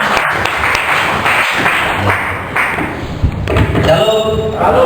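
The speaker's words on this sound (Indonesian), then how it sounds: "Kita juga tepuk tangan buat Tuhan Yesus." A church congregation at a worship service held in a prison chapel in Tanjungpinang claps along, with scattered claps and thumps mixed with loud voices and room noise.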